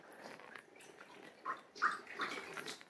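Water running over hair as it is rinsed during a loc detox, a faint, uneven trickling and splashing with a few louder gushes toward the end.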